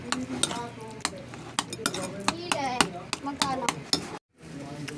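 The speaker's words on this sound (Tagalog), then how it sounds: "Inudurog natin yung avocado." Avocado being mashed by hand in a bowl for a graham dessert, with repeated sharp clinks and scrapes of a utensil against the dish in an uneven rhythm while a person talks over it.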